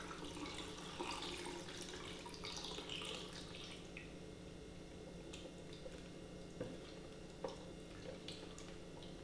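Fresh water poured into a developing tank to wash Ilford 125 film at home after the developer is emptied, a steady splashing rush with small drips and clinks, close by and continuous.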